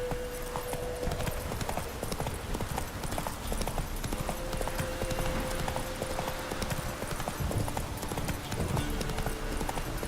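A horse galloping in the video game The Witcher 3, with rapid rhythmic hoofbeats throughout, close and steady, over soft in-game ambience and a faint sustained musical tone.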